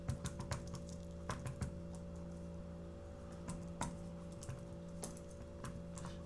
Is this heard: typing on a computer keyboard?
yes